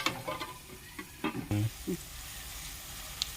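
Vegetables frying in a pan as a spoon stirs them, with scattered scrapes and knocks over a soft continuous sizzle; a short low hum or murmur comes in the middle, then the hiss settles alone.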